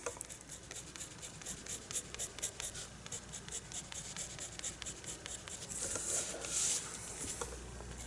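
Colored pencil strokes scratching on paper while a duckling is drawn, a steady dense scritching with quick repeated strokes throughout, growing slightly louder and brighter near the end.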